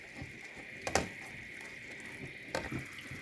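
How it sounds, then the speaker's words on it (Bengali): Spice paste of ground coriander, ginger and garlic with salt sautéing in a pan for a prawn, bottle gourd and potato curry, a soft steady sizzle with a few sharper scrapes and clatters, no talk. "দিয়ে মশলা কষানো হচ্ছে"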